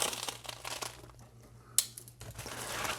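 A cardboard shipping package being cut open, with crinkling and scraping of the box and packing, a sharp snap partway through, and a steady low hum underneath.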